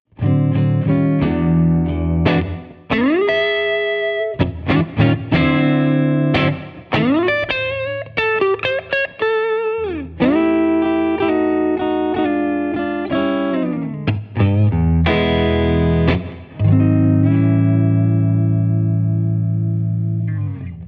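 An electric guitar plays a bluesy phrase through a Fender '62 Princeton Chris Stapleton Edition amp with light reverb and some grit, bent notes and chords ringing out alone.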